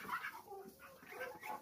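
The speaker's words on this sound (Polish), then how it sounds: "Kogucik!" A young rooster in a farm stable gives a short, strained, breaking crow, a brief wavering call of about a second and a half that sounds fairly close.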